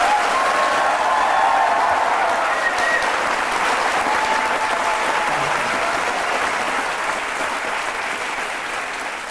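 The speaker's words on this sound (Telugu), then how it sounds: "ఇక్కడ చాలా మంది వ్యూయర్స్ ఉన్నారు, వాళ్ళ చప్పట్లతో మిమ్మల్ని ఎంతగా అభిమానిస్తున్నారో తెలుస్తుంది." Studio audience applauding on a televised courtroom-style talk show, a dense, steady wash of clapping that holds loud throughout with no voices over it.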